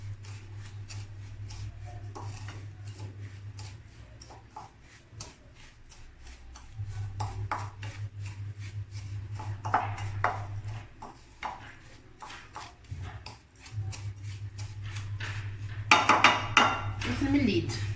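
A utensil scrapes and clinks in a bowl as butter and crushed biscuits are mixed for a no-bake lemon cake. The rhythmic rubbing and tapping continues over a low steady hum.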